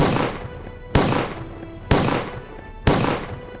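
Gunfire sound effects punctuate a dramatized historical narration: four loud, sharp shots spaced about a second apart, each fading into a short echoing decay.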